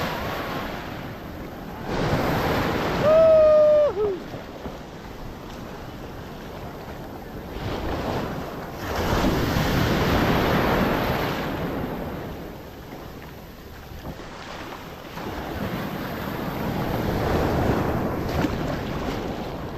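Sea waves surge and wash in repeatedly at Eco Beach, swelling and fading in slow cycles, with wind buffeting the microphone and a brief tonal whine early on.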